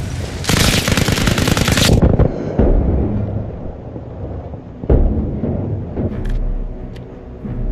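Loud, rapid automatic gunfire bursts dominate the opening two seconds in the video game Arma Reforger, followed by a heavy thud, scattered shots and rumbling vehicle noise, with no talk.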